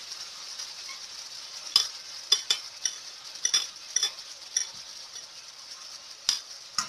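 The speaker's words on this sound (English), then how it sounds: "I want to add my onions now" Onions hit a pot of seasoning for a special curry soup, giving a steady soft sizzle punctuated by sharp metallic clicks and scrapes of a spoon stirring against the pot.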